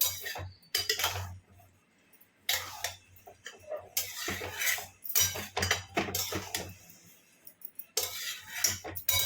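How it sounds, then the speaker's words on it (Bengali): Spoon stirring salt-boiled food in a pot, with repeated clinks and scrapes of metal against the pot coming in bursts and separated by short pauses, close by and fairly loud. "এবার এটাকে নাড়বো"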